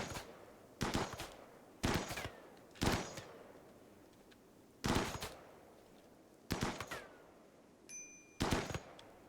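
Assault rifle bursts from a RimWorld colony firefight crack out in six or seven sharp, loud volleys spaced about a second apart, with a short metallic ding near the end and no talking.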